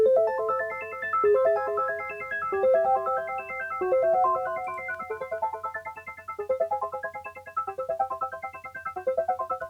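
Dry electric piano with no waveform plugin, repeating a rising melodic figure that turns into a quicker pulsing pattern toward the end, close and clear, with a faint steady low hum and no voices.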